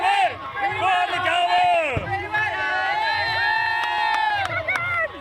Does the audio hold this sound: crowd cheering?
yes